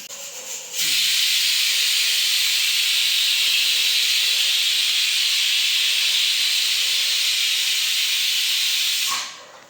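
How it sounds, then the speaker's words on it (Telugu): A pressure cooker cooking mango dal vents steam in a loud, steady hiss that lasts about nine seconds before abruptly cutting off. "కుక్కర్ విజిల్స్ కూడా అయిపోయాయి"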